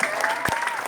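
An audience at a Balinese comedy show claps in a steady, dense patter for under a second, with a voice heard over it.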